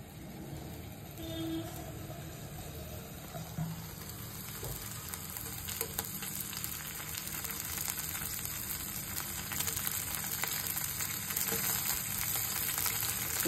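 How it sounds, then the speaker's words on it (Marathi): Paneer pieces fry in oil over high flame until golden, a dense, steady sizzle that grows gradually louder and more crackly over the stretch. "त्याच्यामध्ये पनीरचे तुकडे टाकते मी आणि हे गोल्डन कलरवर फ्राय करायचे"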